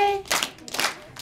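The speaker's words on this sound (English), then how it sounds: "How many times do we have to clap now?" Hand claps keep time in a children's Christmas song, a few sharp broadband claps in quick succession, close and fairly loud, with a sung tone at the start.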